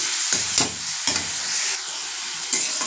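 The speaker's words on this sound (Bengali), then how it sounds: "আর এইদিকে একটু মশলা কষাচ্ছি, কচুর মুখি দিয়ে রান্না করব।" Spice paste with salt and turmeric sautéed in a pan before taro roots go in, with a loud, hissing sizzle broken by four or five scraping stirs of a spoon.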